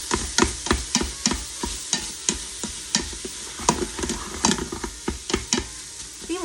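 Food browning in a pan gives a low sizzle beneath repeated sharp scrapes and taps of a utensil stirring at an irregular, quick pace, close and fairly loud.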